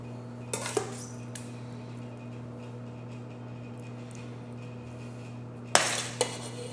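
A few clinks of a utensil against a pan or dish as sloppy joe mix is spooned onto toasted buns, brief sharp knocks over a steady low hum in a quiet kitchen.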